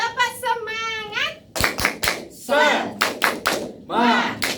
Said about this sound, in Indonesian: Kita tepuk semangat, oke?